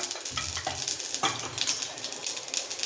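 Mustard seeds and cumin sizzle hard in hot oil in a pan, a bright crackling fizz with small popping bursts, close and steady for a few seconds with no talking.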